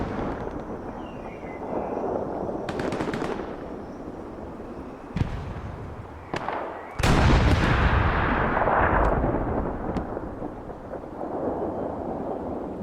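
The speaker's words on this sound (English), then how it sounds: "that explosion on the back of the distance over there was a tank mine being ran over" A distant explosion from a tank mine run over in a video game match booms out, the main blast landing near the middle with a long rumbling tail, preceded by sharper cracks and muffled battlefield firing underneath.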